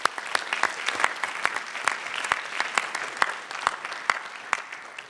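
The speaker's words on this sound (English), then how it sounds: "So I think that deserves a round of applause." An audience at a STEM educational panel of the Gold Medal Summit gives steady applause, with sharp individual claps standing out over the softer patter of the room.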